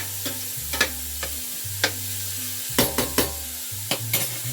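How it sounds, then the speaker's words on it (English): Meat for chili con carne sizzles in a pan at close range, and a spoon scrapes and stirs it in repeated bursts over a low cooking hum. "that's frying up really nice"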